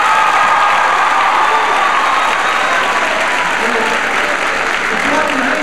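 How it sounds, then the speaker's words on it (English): Loud, sustained applause from an audience gathered for teachers of the Brockton Public Schools at a high school announcement, dense and even throughout with a few cheers mixed in. "Can I get a ginormous round of applause to the teachers in the Brockton Public Schools?"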